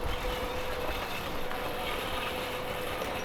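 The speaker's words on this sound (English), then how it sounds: "My lawn mower is hard at work." A lawn mower runs in a garden, giving a steady, continuous engine drone with broad noisy hum, moderately loud and unbroken throughout, no voices.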